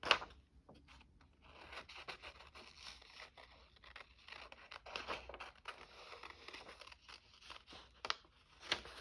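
Scissors cutting out a paper picture for a junk journal, close and quiet, with a steady run of crisp snipping and rustling paper for several seconds.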